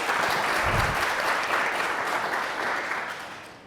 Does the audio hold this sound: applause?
yes